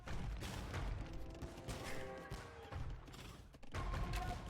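Bombard cannons firing in an Age of Empires style real-time strategy battle, with repeated booming shots and clattering crashes packed into a dense, continuous battle din, along with other mechanical clanks.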